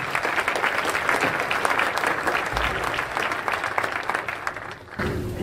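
An audience applauds after a panel presentation on New Jersey partnership projects. The clapping is a full, sustained wash of many hands with no gaps, and it shifts slightly in tone near the end.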